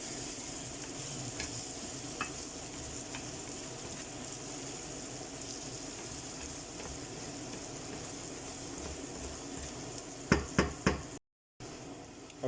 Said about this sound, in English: And I'm going to give it a mix about.